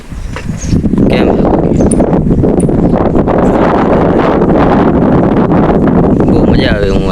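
Strong wind gusts at a hilltop temple buffet the microphone, a loud, continuous roar and rumble that masks most other sound for several seconds.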